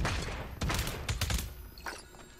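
A short flurry of video-game gunshots, several sharp cracks bunched together before fading into quieter shots.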